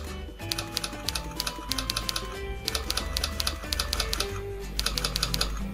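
Keyboard typing sound effects on a Windows computer click out rapid, crisp clacks in irregular bursts, typewriter-like and close, layered over faint background music with no voices.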